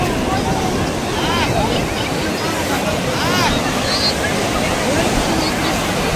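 Sea waves on Puri beach make a steady, loud broadband rush of surf mixed with wind buffeting the microphone, while faint voices of beachgoers drift in the background.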